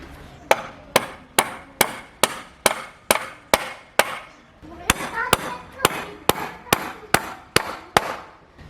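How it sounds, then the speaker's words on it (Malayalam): A hammer drives wooden planks onto a homemade wooden chicken cage in a steady run of sharp, loud, evenly spaced blows, roughly two per second, close by. "അതിനുശേഷം അപ്പുറത്തും ഒരു പട്ടിക അടിച്ചു കൊടുക്കുക."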